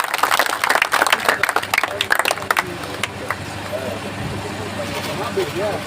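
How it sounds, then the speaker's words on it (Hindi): Audience applause at a public gathering: a dense burst of clapping mixed with voices in the first few seconds, thinning into a steadier crowd murmur. "मैं आप सबसे विनती करता हूँ जोरदार तालियों से इनका धन्यवाद किया जाए"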